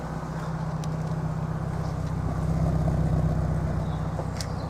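A 1995 Vauxhall Astra Sport 1.8i 16v engine idles steadily at close range, a low, even rumble with no voices.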